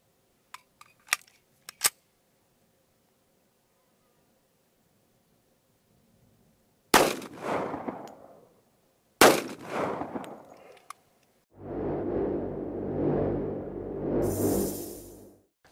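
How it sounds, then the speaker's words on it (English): 10mm 180 grain full metal jacket rounds fired at a Shot Stop NIJ Level IIIA ballistic board: a few sharp cracks, then two loud blasts with trailing echoes, followed by a long stretch of rushing noise. "Let's start with some 10 millimeter, a couple of 180 grain full metal jacket"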